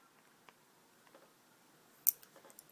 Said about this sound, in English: I'm just going to trim those wicks just a little bit more